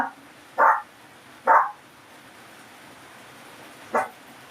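Three separate Shih Tzu barks, two close together and a third after a pause, nearby with quiet in between.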